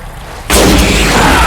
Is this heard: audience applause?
no